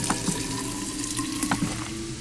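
Tap water running steadily into a pot in the video game Fran Bow, a continuous close splashing hiss with faint clinks, alone without talk.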